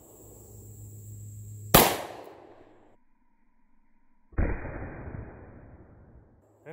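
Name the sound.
gunshots fired at a bulletproof vest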